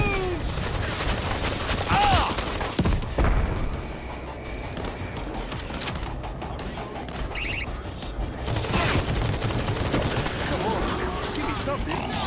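Continuous rattling gunfire from automatic turrets in the zombie shooter World War Z, a dense fusillade throughout with booms and mechanical clatter, under excited voices shouting.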